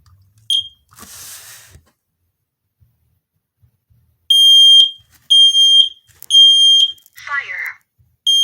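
A newly installed smoke alarm sounds its test signal after its test button is pressed, a series of loud, shrill electronic beeps in short repeated bursts, after a brief chirp and some rustling handling noise.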